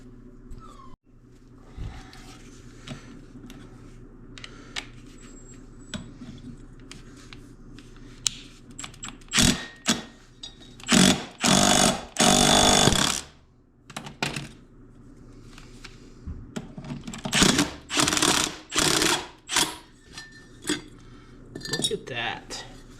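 Metallic clanks and scraping from a puller working a flywheel off an old two-man chainsaw on a bench, coming as irregular bursts of clinks and taps with quiet gaps between them.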